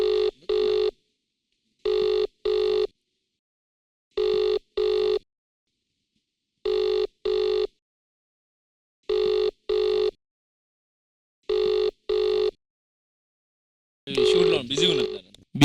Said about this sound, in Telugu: చరణ్ అన్న కాలింగ్.